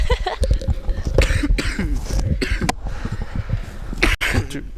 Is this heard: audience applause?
no